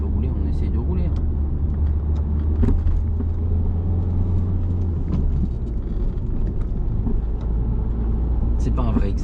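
A car drives during a mock driving-licence exam, its engine a steady low rumble heard from inside the cabin throughout, with people talking over it.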